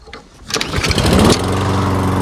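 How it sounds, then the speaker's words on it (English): An old walk-behind lawn mower engine cranks and catches after a few seconds of quiet, then settles into a loud, steady running drone close by. "This thing never wants to go as good as these older mowers."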